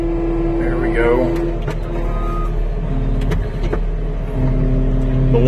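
A skid steer loader's engine runs steadily up close, a loud low drone with shifting pitch and clanks as the machine maneuvers, and someone talks over it.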